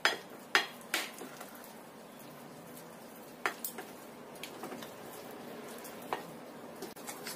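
A ladle or spatula stirs cookie dough made of cheese, margarine and butter in a bowl, giving quiet scraping with sharp clinks against the bowl, several early and then scattered, and no talk.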